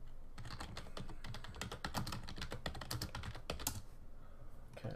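Rapid, steady typing on a laptop keyboard very close to the microphone, a dense run of crisp key clicks with a brief pause near the end, no voices.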